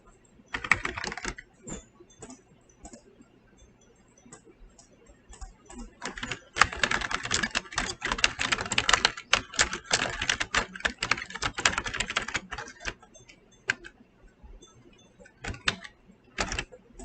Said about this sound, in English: I'm not used to typing in all caps